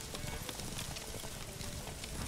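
Horse galloping in The Witcher video game, a steady, busy run of hooves with continuous game ambience around it.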